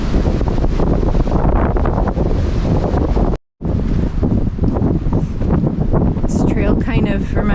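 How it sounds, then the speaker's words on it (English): Strong wind on the Appalachian Trail between Woody Gap and Neel Gap buffets the microphone in a constant roaring rush, cutting out briefly for a moment before resuming. "Windy and cloudy today."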